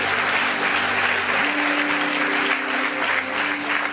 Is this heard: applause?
yes